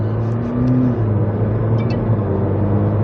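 Steady engine rumble of a McLaren sports car driving in automatic mode, with a low drone and faint pitch changes as it moves up and down through the gears, no voices.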